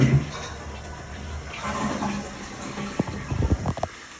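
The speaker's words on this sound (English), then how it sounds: "I'll go ahead and flush it again" A household toilet plumbed with cold water flushes, a rushing gush of water that swells and then breaks into gurgling splashes and drips toward the end, close and loud.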